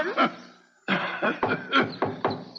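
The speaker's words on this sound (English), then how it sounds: "that cough sounds worse than ever to me" An elderly man coughs several times in a row, a close, rough cough with a short pause after the first bursts, and no talk over it.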